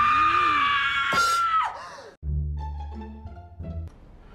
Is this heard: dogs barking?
no